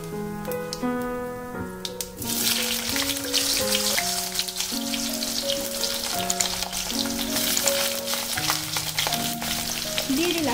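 Diced potatoes tipped into hot oil with whole cumin seeds, frying with a steady loud crackling sizzle for ten seconds, some clinks of a spoon stirring early on, with a brief spoken remark near the start.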